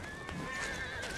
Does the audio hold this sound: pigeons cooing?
no